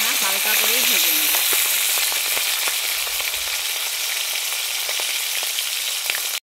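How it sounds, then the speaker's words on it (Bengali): Hilsa fish head frying in hot oil gives a loud, steady sizzle with crackling pops, starting with a brief burst of splattering and continuing close up without a break until it stops sharply at the end. "আমি এবারে ইলিশ মাছের মাথাটাকে ভেজে নিচ্ছি।"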